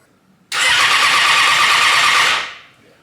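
A race motorcycle converted from a road bike starts up for the first time, bursting into a loud, close, raspy engine roar that holds steady for about two seconds and then cuts off and fades, with no talking.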